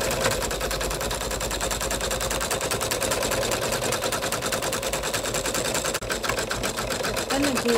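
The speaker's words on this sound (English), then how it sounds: "now I'll send it over to the machine and it'll do the satin stitch" A computerized embroidery machine stitches a satin stitch on a coin purse, its rapid needle hammering steady and loud throughout, with speech over the mechanical rattle.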